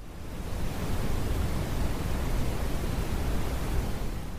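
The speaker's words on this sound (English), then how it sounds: "a medium-pitched pink noise, or a higher-pitched white noise." An Ecotones ASM1002 sound and sleep machine plays medium-pitched pink noise: a smooth, even, broadband hiss, steady and fairly loud throughout, with no voices or other sounds.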